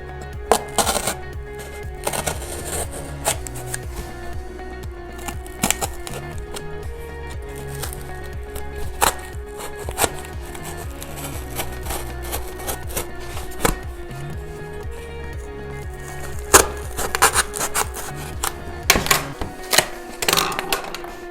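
Blade cutting through the side of a tall cardboard box, giving a string of crisp, crunching cuts at an uneven rhythm over a steady tonal background, with a few louder snaps toward the end.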